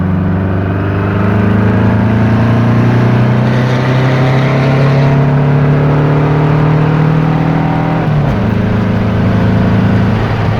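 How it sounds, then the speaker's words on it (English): A Volkswagen Type 4 engine with a serpentine belt system revs high and holds a loud, steady drone, its pitch rising gradually, then dipping briefly near the end before settling back. "One more high rev."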